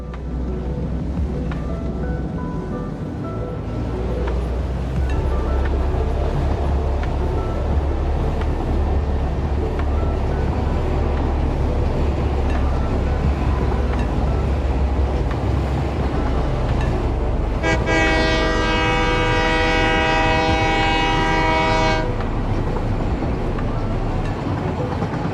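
Train running steadily in Cyberpunk Sati, a low continuous rumble throughout, joined near the end by a sustained multi-tone horn lasting several seconds.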